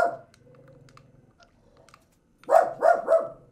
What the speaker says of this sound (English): Tell your dog to stop barking at the deer